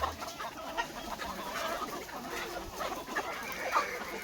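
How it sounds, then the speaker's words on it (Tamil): Farm chickens cluck and murmur softly nearby while scratching at scattered rice straw, with scattered short calls over a quiet, rustling yard background. "கோழிலாம் நல்லா இருக்குது."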